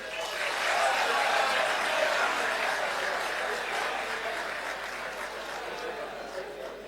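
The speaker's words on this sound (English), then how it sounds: "we give Dorothy and the teacher a loud hand of applause to them." Sustained applause from the audience at a national presidential address, a dense, steady wash of clapping that swells early and slowly fades over several seconds.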